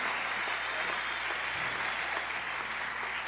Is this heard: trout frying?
no